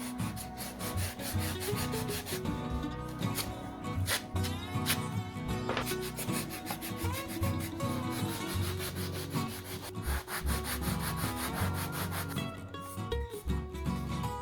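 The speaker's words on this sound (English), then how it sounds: "I'm gonna smooth out any remaining bumps with these nail files I use." Nail files rub rapidly back and forth over foam clay cosplay horns, a close, steady rasping stroke repeated throughout with slight pauses, with no talk.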